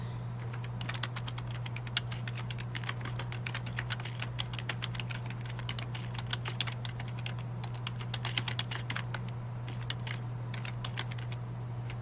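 Steady, fast typing on a computer keyboard, keys clicking in dense irregular bursts close by over a constant low electrical hum, with no voices.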